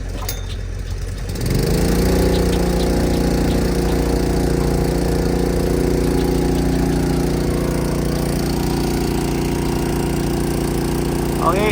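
Engine of an agricultural sprayer pump, used for dugout water, cranks and catches after a second of mechanical clatter, then runs loud and close at a steady idle-like drone.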